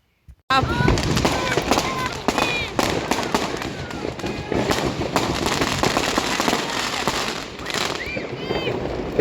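After a brief silence, a rapid barrage of firework bangs and crackles from a Fire Stepper firecracker erupts nearby, loud and continuous, with popping bursts throughout.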